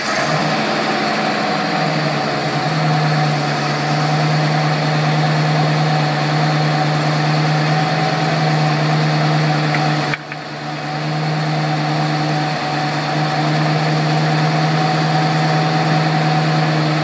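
An engine idles steadily with a rebuilt Rochester single barrel carburetor that is leaking gas, a constant loud drone with a strong low hum running unbroken, dipping briefly once midway before settling back.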